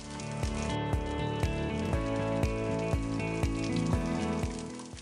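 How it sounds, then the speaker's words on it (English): Peas tipped into a pan of sizzling masala for restaurant-style matar paneer give a dense, steady frying sizzle, punctuated by regular soft clicks and taps of a spoon against the pan, close and without talk. "Now I'm adding peas into it."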